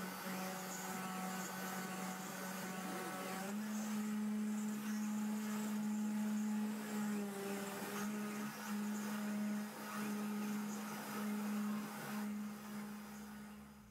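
A desktop 3-axis CNC milling machine engraves with a 2mm end mill in a router spinning at 15,000 RPM. It makes a steady, fairly quiet high-pitched whine with a grinding cutting texture and no voices.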